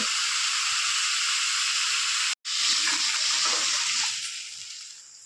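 Tap water pours in a steady, hissing stream into batter for coconut chitau pitha, cutting off for a brief moment and then gushing again before tapering off, close and loud with no voices.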